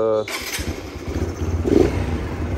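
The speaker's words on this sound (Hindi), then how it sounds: "बाइक को करते हैं स्टार्ट" A motorcycle engine catches and settles into a low idle rumble after a brief start, heard up close under a moving, windy background, with a person talking nearby.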